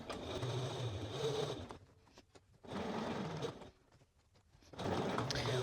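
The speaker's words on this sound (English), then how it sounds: "I'm just going to stitch right along that previous stitch line." A sewing machine stitches along a seam of a Kimball bomber jacket, running in three steady whirring bursts separated by brief pauses, close and clear.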